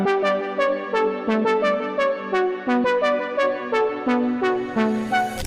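Bright synth plucking a repeating melodic pattern, each note thickened by a wide chorus effect, evenly spaced and moderately loud with nothing else behind it.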